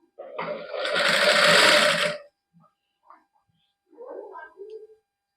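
A sewing machine stitches down the centre of a suit neckline edged with lace, one close burst of whirring lasting about two seconds, followed by a few faint handling clicks and rustles.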